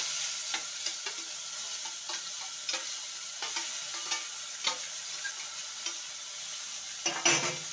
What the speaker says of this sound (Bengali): পটলটাকে ভালো করে ভেজে নিতে হবে।